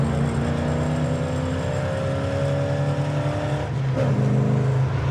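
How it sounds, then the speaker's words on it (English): A 1964 Chevrolet Impala SS engine idles with a low, steady, slightly choppy rumble and faint whirring, close and even throughout, with a brief shift in tone near the end. "Do you like the idle of it? Don't you like that little chop"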